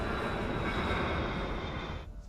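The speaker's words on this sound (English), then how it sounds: "Flight 152 is on final approach." Garuda Indonesia flight 152, an airliner on final approach, gives a steady, loud broadband engine roar with a whining tone that fades abruptly near the end.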